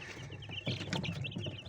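Week-old chicks in a brooder, a faint cluster of soft peeping and cheeping calls close by over a low background.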